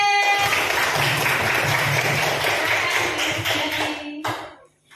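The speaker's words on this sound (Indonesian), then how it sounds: "Tepuk tangan untuk kelompoknya Mbak Nabila." A classroom full of people claps steadily for several seconds after a group presentation, dense and close, then the applause trails off and stops.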